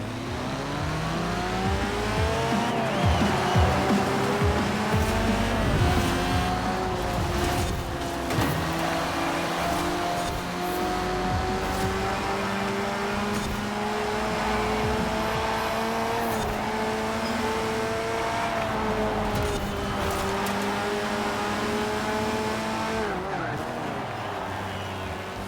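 Racing cars in Forza Horizon 4, including an Austin 7 and a Triumph TR7, with engines droning and revving steadily as they climb and shift through gears, loud and continuous for the whole stretch.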